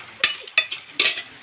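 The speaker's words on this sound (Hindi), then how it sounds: "तड़का लग रहा है" Three sharp bursts of sizzling as tempering spices hit hot oil for khichdi, each flaring loudly then fading, with quiet crackle in between.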